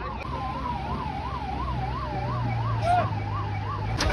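An ambulance siren wails in a steady rising-and-falling pattern at the scene of a road accident, moderately loud over continuous traffic and engine rumble, with no one speaking.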